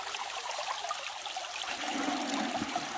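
Creek water runs steadily and close by at a spot being worked for gold, a constant broadband rush and trickle with a slightly deeper burble rising in the second half, no voices.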